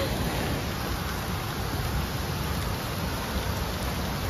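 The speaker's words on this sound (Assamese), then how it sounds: "বহুত বৰষুণ দিছে" Heavy rain falling outdoors on a trek from Anini to Bruni, a dense, steady hiss of downpour that stays constant and fairly loud throughout, with no clear voices over it.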